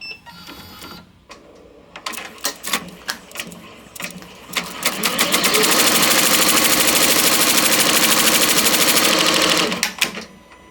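A Ricoma MT 1501 commercial embroidery machine stitches with its thread break sensor in question: scattered mechanical clacks first, then a loud, fast, steady stitching chatter for about four seconds before it stops with a few final clicks.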